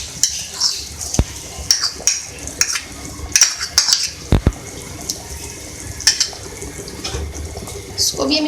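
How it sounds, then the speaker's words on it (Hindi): Crushed fried onions stirred into chicken korma in a pot, repeated clinks and scrapes of a spoon against metal in an uneven rhythm, fairly close. "अब मैं इसके अंदर प्याज ऐड करूँगी जो मैंने फ्राई करके निकाल ली थी, और इसको मैंने चूरा कर लिया था अच्छे से।"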